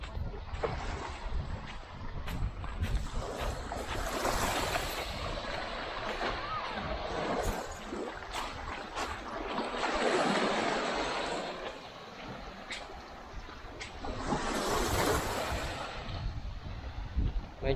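Sea waves on the beach at Poro Island, Libmanan, Camarines Sur, roll in as three broad surges, with a steady wind rush on the microphone filling the gaps between them.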